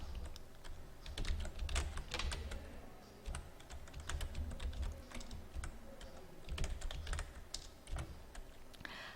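Rapid keystrokes on a computer keyboard while entering data into spreadsheet cells, steady and close with irregular clusters of taps and occasional heavier key presses, no talking.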